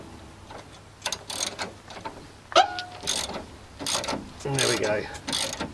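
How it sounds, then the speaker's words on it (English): Ratchet wrench turning a nut on a Nissan 350Z top mount, with bursts of quick clicking strokes and metallic clanks, close up, with brief speech mixed in. "You can now be able to do that with a ratchet in there."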